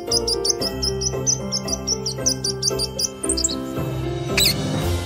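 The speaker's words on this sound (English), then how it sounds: "This is a sparrow." A sparrow chirps in quick high repeated tweets over steady background music, a continuous busy twittering with one brief louder call near the end.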